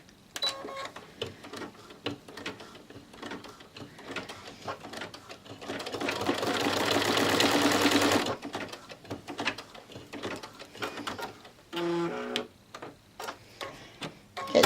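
An embroidery machine stitches an in-the-hoop zipper bag with quick ticking needle taps, swelling into a denser whirring run for a couple of seconds before returning to sparse clicks and short mechanical beeps.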